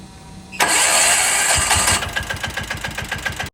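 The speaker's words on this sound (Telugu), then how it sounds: "ఇంజన్ స్టార్ట్ చేసి చూపిస్తా." A 2024 diesel vehicle engine cranks and fires up, a loud burst of starter noise settling after a couple of seconds into a steady rough knocking idle, close to the microphone.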